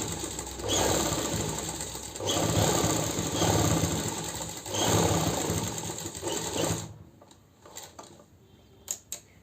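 A sewing machine stitching a collar-neck kurti runs in three long, loud, close bursts of rapid mechanical clatter, then falls quiet apart from a few handling clicks.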